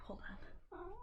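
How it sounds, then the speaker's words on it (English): A cat at a door makes a brief meow-like call near the end, with a person talking over it indoors at close range. "that's my cat scratching at the door."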